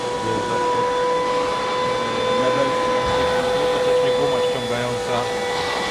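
A micro floor scrubber with a brush hums steadily in a busy trade expo hall, with a constant motor whine and a few tonal lines, and people talk over it.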